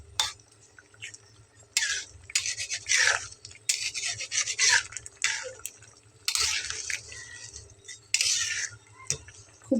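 Spiced curry of drumstick stems, potato, eggplant, lentil dumplings and tomato stirred in a pan, giving repeated loud scraping, rasping strokes in irregular bursts with brief pauses, close up, over a low steady hum.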